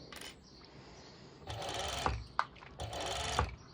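An overlock sewing machine stitching fabric for a hoodie top, running in two sustained whirring bursts with a rhythmic mechanical chatter, close and fairly loud, separated by brief pauses and small clicks.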